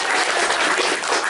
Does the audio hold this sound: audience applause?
yes